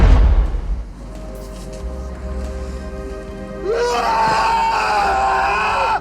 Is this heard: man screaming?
yes